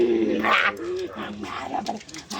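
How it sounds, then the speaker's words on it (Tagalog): A dog whimpers and yips nearby in short high whines, mixed with a few soft barks, while people talk in the background. "Nilalaro aso eh"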